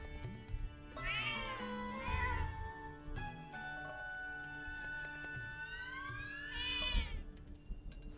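Cats meow in the video game Zelda: Echoes of Wisdom: several drawn-out, pitch-sliding meows rise and fall over a soft, steady musical background, with no talking.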